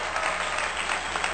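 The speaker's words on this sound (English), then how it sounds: "round of applause for you" A brief burst of steady crowd applause, dense and even, plays on its own as a short applause sound effect.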